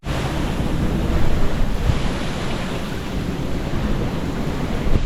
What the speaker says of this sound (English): We got some big gusts coming through right now.